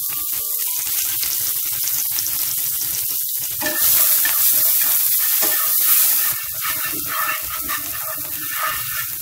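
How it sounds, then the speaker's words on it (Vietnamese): Minced garlic, shallots and chili fry in hot oil in a pan, giving a loud, steady sizzle that swells midway and continues without talk. "Mình phi cho hành tỏi nó hơi vàng vàng là được."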